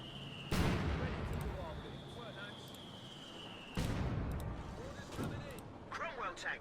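An artillery barrage in the real-time strategy game Company of Heroes 2 brings two heavy booming impacts several seconds apart, with scattered smaller gunfire and unit chatter between them, a voice talking over the battle.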